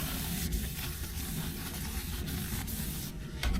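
Oil is rubbed over the pan of a Trangia 25 Duossal alcohol stove, giving a soft, steady friction hiss with faint scrubbing texture and no voices.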